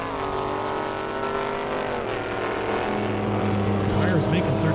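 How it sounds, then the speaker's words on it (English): A Corvette drag races down an airstrip at Indy Airstrip Attack, its engine a loud, harmonic roar that climbs through the gears, with a commentator's voice over the top. "Now I got Brandon Franklin Corvette."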